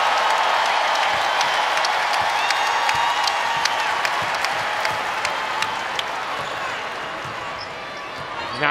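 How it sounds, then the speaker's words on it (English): An arena crowd at a South Carolina versus Ole Miss women's college basketball game gives Aaliyah Boston an ovation, sustained applause and cheering with sneaker squeaks and ball bounces cutting through, under a commentator's voice. "as Boston gets the ovation"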